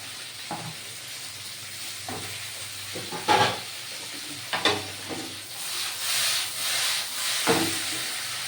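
Pumpkin, potatoes and okra fry in a pan with a continuous hiss and sizzle, and intermittent clatters and scrapes come from stirring and pieces being dropped in, loud and close.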